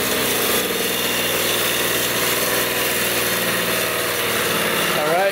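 A rare old motorcycle running on choke with freshly changed oil, its engine idling steadily and loudly at close range for the whole stretch, with a brief rise near the end.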